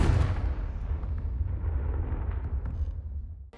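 Confringo spell explosion in the Hogwarts Legacy video game, a deep rumbling blast with a heavy low boom that slowly fades over a few seconds, loud and close.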